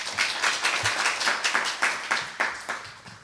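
An audience at a seminar on the senior market in a super-aged society claps in a fairly even, rhythmic series of about ten distinct claps, moderately loud and close.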